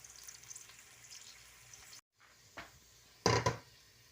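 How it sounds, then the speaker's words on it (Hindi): Mutton frying on a second stove burner for a spinach-and-meat curry gives a soft sizzle that hisses, then stops for a moment. It comes back with a couple of louder crackling bursts near the end. "अब ये भून रहा है इधर दूसरे चूल्हे पे"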